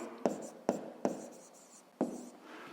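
Pen on paper while a fifth-grade maths exercise is worked: four sharp, separate taps and short strokes, close and quiet, spaced unevenly across a hushed room.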